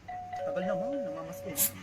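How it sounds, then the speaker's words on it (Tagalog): A short electronic doorbell chime rings with a sustained tone while voices murmur in the background, followed by a brief bright clatter. "Ba't doorbell ka ng doorbell?"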